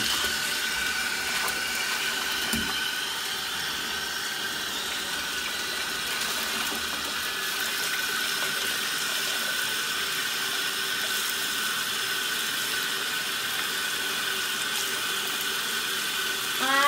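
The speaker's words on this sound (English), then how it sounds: "let's go ahead and turn on the water and check out the bubbles." Hot tap water pouring steadily into a jetted bathtub, a constant hissing rush with a faint mechanical hum, running unbroken throughout with no talking.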